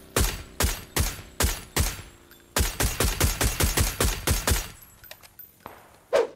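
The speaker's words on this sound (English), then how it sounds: "M249 popping away" M249 machine gun in the video game PUBG, played on console, firing loud bursts of rapid shots in two long strings, then a few scattered fainter shots and one last sharp report near the end.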